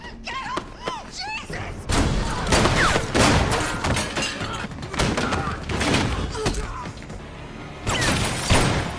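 Loud rapid bursts of gunfire with crashes and thuds from a scene in The Bourne Legacy, dense and chaotic, with a brief voice near the start.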